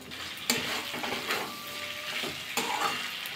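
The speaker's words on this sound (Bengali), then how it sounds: "ভালো করে কষিয়ে নিয়েছি মশলাটা দিয়ে," Mixed vegetables sizzle with spices in a pan, a close, steady frying hiss broken by a few sharp stirring scrapes and clinks.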